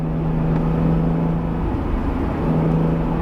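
A mid-engine Acura NSX (Honda NSX) sports car engine drones steadily nearby while accelerating, a low constant hum with a slight rise in pitch, no talking.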